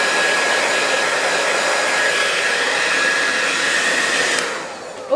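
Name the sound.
hair dryer drying hair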